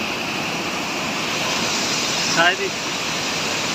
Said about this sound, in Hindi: आवाज़ देख सकते हो तुम पानी की।